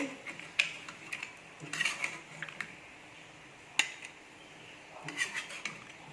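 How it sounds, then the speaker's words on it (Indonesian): Light clinks and taps of cutlery against a plate as braised chicken is placed on it, a few scattered knocks with quiet pauses between them, close by and fairly soft. "Nah, kita letakkan dulu di piring."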